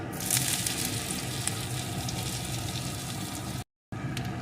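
Green peas frying in hot oil with chopped ginger and green chilli, a dense continuous sizzle with light stirring scrapes, broken by a brief cut to silence near the end.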